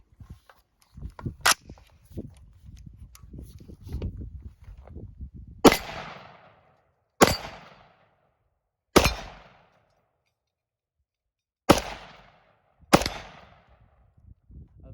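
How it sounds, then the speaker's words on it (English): A Cetme Model L rifle in 5.56 NATO fires five sharp, loud single shots at irregular intervals of one to three seconds, each with a short echo tail, after quieter handling noises at the start. "Let's shoot some more and see."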